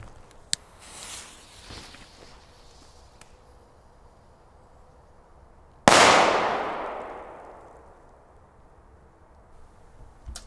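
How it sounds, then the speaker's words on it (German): A Roter Korsar firecracker goes off with one sharp, loud bang that rings out and decays over a couple of seconds, after a few faint pops and clicks outdoors. "Der Böller ist vom Knall richtig gut."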